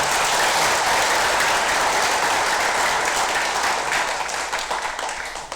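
A ceremony audience at a provincial government event in Gorontalo breaks into dense, sustained applause, loud and even, tapering slightly at the end.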